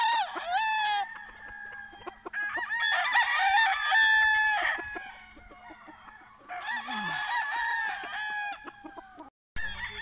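A gamecock at a game farm in Jagna, Bohol, Philippines crows loudly and nearby, several long strained calls with short breaks, plus softer clucking in between.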